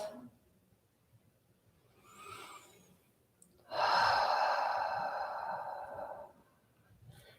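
A slow, deep breath during a yoga session: a soft inhale followed by a longer, airy exhale lasting a few seconds, close and quiet in an otherwise calm room.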